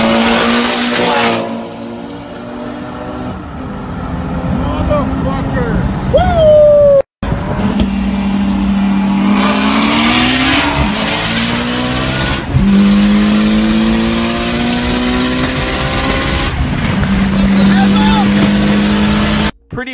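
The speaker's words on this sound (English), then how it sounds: "Going up against a Twin Turbo Gallardo, super leggera it looked like." A twin-turbo Lamborghini Gallardo Superleggera drag races a Mitsubishi Evo, with loud engines revving hard and climbing in pitch through repeated gear changes, punctuated by brief cuts, over a sustained roar.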